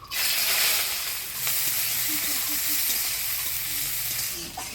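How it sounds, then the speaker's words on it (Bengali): Black cumin and chopped onion hit hot oil in a village kitchen and set off a loud, continuous hissing sizzle that eases slightly, then carries on steadily, close by with no talking. "ফোড়নে দিয়ে দেবো কালো জিরা আর পেঁয়াজ কুচি"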